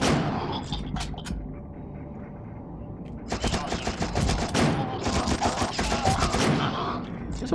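A scoped Mosin rifle fires in the shooter game You Are Empty, with sharp repeated reports in two bursts, the second cluster denser and louder, over steady in-game background noise.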